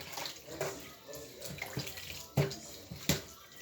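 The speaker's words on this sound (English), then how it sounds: "I'm still washing so that the pepper can be washed off." A pepper is rinsed by hand under running tap water, with a steady splashing flow and a few sharper splashes as it is turned and rubbed.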